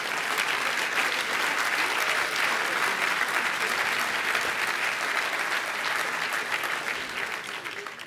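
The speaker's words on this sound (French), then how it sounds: "oui, vous pouvez applaudir les aînés" A crowd at a political speech by Maxime Prévot applauds in honour of the elderly, a sustained even wash of clapping from many hands that holds steady for several seconds before easing slightly at the end.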